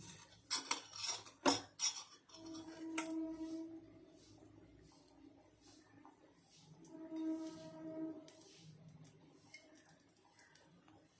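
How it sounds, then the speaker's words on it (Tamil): A kadai set on a stove, then oil poured in: a few sharp metallic clanks and bangs at the start, followed by quieter pouring and rumbling with faint tonal hums, all soft and close, with no speech. "அடுப்பை பற்ற வச்சுட்டு நம்ம கடாய் வச்சுட்டு அதில் தேவையான அளவு எண்ணெய் ஊற்றிக்கலாம்"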